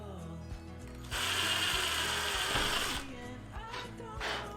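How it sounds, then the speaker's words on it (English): An impact driver with a 1/8 inch drill bit whirs loudly for about two seconds drilling a small hole in scrap wood, steady and high-pitched, between softer mechanical clicks and faint rustling. Nobody speaks. "I'm using a 1/8 inch drill bit in my impact driver"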